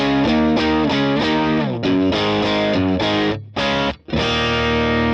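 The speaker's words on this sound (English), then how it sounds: "But with the EQ, much better." Loud distorted electric guitar through a Vox AC30 amp with EQ applied plays a chugging riff with a balanced, full tone, with two short gaps before the chords ring on.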